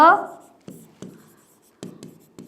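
Chalk or marker taps and short strokes on a board as a word is written during a Sanskrit lesson, a handful of sharp, separate ticks spaced unevenly, close, with a voice speaking at the start.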